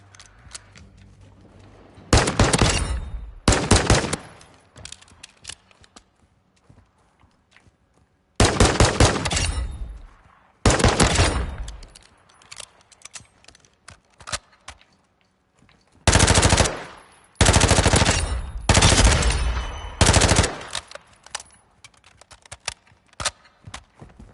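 A gun in the Modern Warfare 2 video game fires several loud, rapid automatic bursts. Short pauses of near quiet separate the bursts, and no one speaks.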